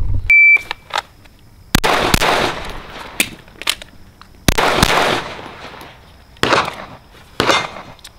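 A suppressed rifle fires repeatedly at an outdoor shooting range: sharp, loud reports arrive singly at irregular gaps of about a second or more, with an electronic beep near the start.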